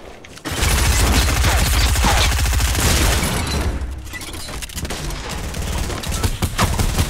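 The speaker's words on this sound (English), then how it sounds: "we're getting sniped at" Sustained sniper and weapon fire echoes in a Fortnite match, dense rapid shots and booms rattling for several seconds after a brief quiet start, loud and close.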